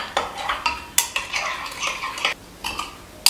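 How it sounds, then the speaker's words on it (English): Soap mixture being stirred in a Pyrex dish, with irregular scraping and clinking strokes of the utensil against the glass, close and fairly loud, with a brief pause near the end. "you just want to stir that in until all of that is mixed up"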